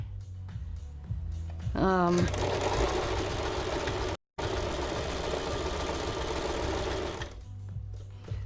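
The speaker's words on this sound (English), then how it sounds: "I'm going to sew that one off with a knot because I tend to cut that corner." A sewing machine stitches fabric in a fast, steady whirring run, then stops briefly and starts again, loud and close.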